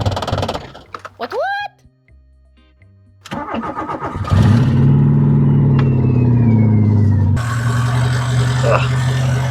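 An old VW Polo 86C2F engine starts and settles into a steady, loud, close idle, with brief sounds of handling and movement just before it fires.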